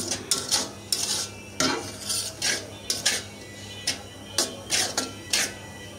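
A spatula scrapes rhythmically across a pan, about two strokes per second, as semolina is stirred and toasted, with a faint hum beneath.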